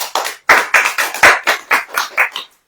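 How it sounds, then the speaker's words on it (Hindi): An audience at a church sermon claps in steady unison, about ten crisp, evenly spaced claps filling the room before stopping. "ताली नहीं बजाएंगे?"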